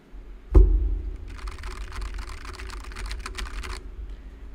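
A thump, then a quick run of soft, even keystrokes on a computer keyboard for a couple of seconds, fairly quiet and close.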